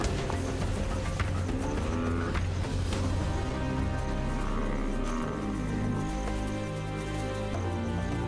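A buffalo hunted by lionesses lets out repeated deep, loud bellows and moans amid the commotion of the struggle, with no voices over it.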